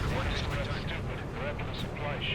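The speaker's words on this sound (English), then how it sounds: "An explosion." Explosion in the aerial combat game Ace Combat 7, a dense rumbling blast wash with crackling bursts under radio chatter and voices.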